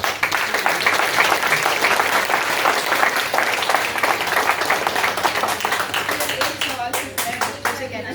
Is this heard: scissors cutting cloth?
no